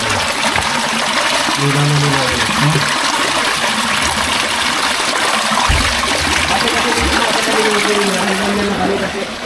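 Spring water flows out from under the ground in a steady, close rushing trickle, with a person talking over it now and then.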